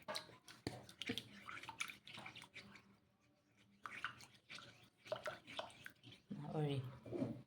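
Liquid poured into a container while homemade herbal hair shampoo (thaali) is being prepared, heard as sloshing, splashing bursts that come and go, with a voice speaking over it.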